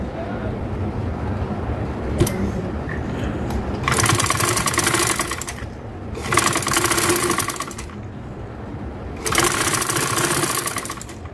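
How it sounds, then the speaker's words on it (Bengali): A sewing machine stitches along the edge of a garment's neckline, running in three loud bursts of rapid mechanical whirring with short quiet pauses between them. "এরকম করে সম্পূর্ণটা তাহলে একটা সেলাই দিয়ে নেব"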